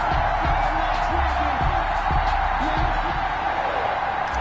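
A stadium crowd in an EA Sports NFL video game roars continuously before the Detroit Lions and Cincinnati Bengals kickoff, with whoops and cheers rising above a dense, steady wash of noise.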